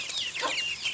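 Young broiler chicks, thirteen to fourteen days old, cheep and peep together on a poultry farm, with overlapping sharp calls that rise and fall across a busy, close flock, no voices.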